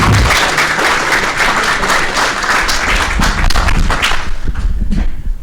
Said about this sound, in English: So I just want to give them a big round of applause because they do so much for their communities.